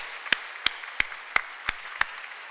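Slow, evenly spaced hand claps sound in a church at a Sunday Mass, six crisp separate claps at a steady rhythm, light and moderately distant, with no voices.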